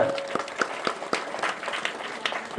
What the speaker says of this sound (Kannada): ಹೃದಯಪೂರ್ವಕವಾಗಿ ಚಪ್ಪಾಳೆ ತಟ್ಟುವುದರ ಮುಖಾಂತರ